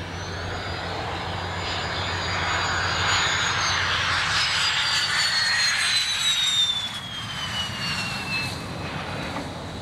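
A jet airplane passes overhead near an air force base, its roaring engine whine swelling loudly, sliding downward in pitch as it goes by, then easing off, with no voices.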